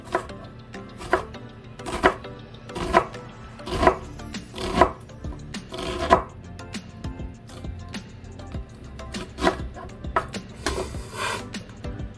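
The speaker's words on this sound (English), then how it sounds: "I hate cutting onions" A knife chops through an onion on a cutting board, close and crisp, with evenly spaced chops alternating with short quicker bursts and no voices.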